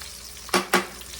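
Pork chops for a Creole dish searing in oil in a pan, heard as two quick, close hissing bursts of sizzle a fraction of a second apart over a quiet kitchen background.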